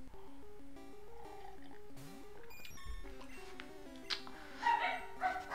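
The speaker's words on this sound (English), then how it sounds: "the dogs are barking" Dogs barking in a home, a few short yips and barks rising near the end over chiptune music from the Pokemon Blue game playing throughout.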